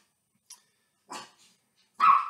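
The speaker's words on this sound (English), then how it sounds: "My dogs are going to start acting crazy, so bear with me." Several sharp dog barks ring out close by, spaced irregularly with short silences between them, the last one louder and fuller than the first.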